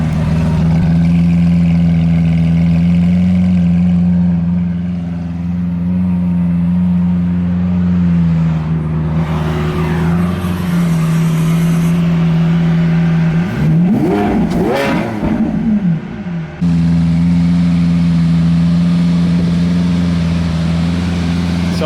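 A loud car exhaust idling with a deep, steady drone, rising into a few throttle blips and a sweeping rev near the middle before settling back to a rumbling idle, close and continuous throughout.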